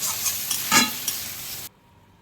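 A banana flower and prawn curry with garam masala is stirred in a pan, giving a close sizzling hiss with a couple of scraping strokes, then cutting off abruptly.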